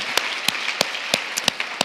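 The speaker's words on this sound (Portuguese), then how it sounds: "Você pode aplaudir a palavra do Senhor?" Church congregation applauding after a sermon, a moderate wash of clapping with several louder individual claps standing out in a loose rhythm.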